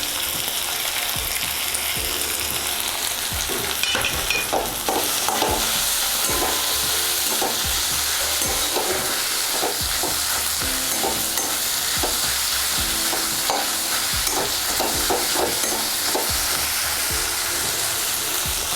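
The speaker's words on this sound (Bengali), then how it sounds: "তারপরে এখন আমি জিরে বাটাটা দিয়ে দিচ্ছি।" Cumin paste frying for a Bengali mutton curry, a loud continuous sizzle in a pan with repeated scraping strokes of stirring throughout, no voices.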